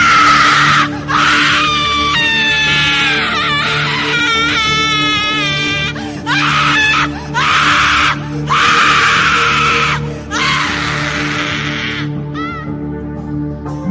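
A woman screams loudly as a horror sound effect, in a series of harsh, piercing shrieks and wails separated by brief gaps, loud and close.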